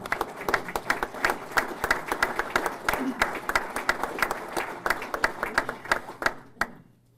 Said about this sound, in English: please give them a round of applause for being leaders in our city